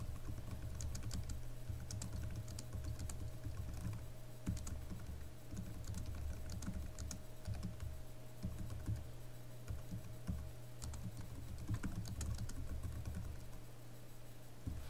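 Steady computer keyboard typing runs throughout at a moderate level, irregular key taps over a constant low background hum, with no talking.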